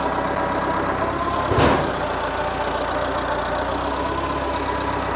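A truck engine runs steadily at idle while loading onto a gooseneck trailer with a dovetail, with a short throttle blip that briefly swells louder before settling back to a constant rumble; no talking.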